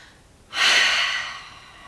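A single deep cleansing breath during a vinyasa yoga flow, a close, loud airy exhale that swells quickly then fades over about a second, alone without talk.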